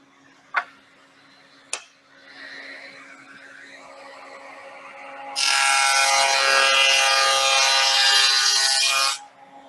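Two sharp clicks, then a rising hum and a loud, steady cutting roar of a few seconds as a dado is cut into a wood panel for a drill press cabinet side, stopping abruptly.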